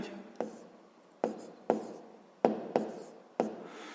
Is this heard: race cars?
no